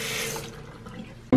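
Water runs from a kitchen tap with a bright, hissing rush that fades to a softer trickle, and a sudden louder clatter comes at the end.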